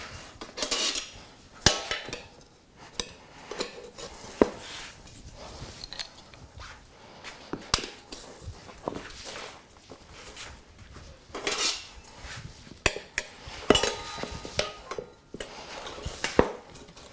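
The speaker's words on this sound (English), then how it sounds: "continue to push down to try to drive the bead of the tire into the rim" Metal tire spoons prying a dirt bike tire bead down into the rim, producing repeated sharp clanks, scrapes and knocks in irregular bursts, close by with no talking.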